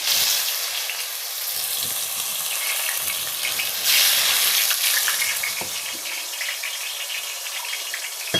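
Finely ground onion paste fries in a pan with a loud, steady hiss and sputter, a continuous close sizzle with occasional stirring knocks.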